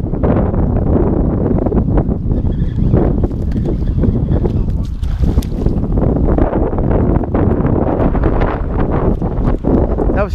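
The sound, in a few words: wind blowing over boat while fishing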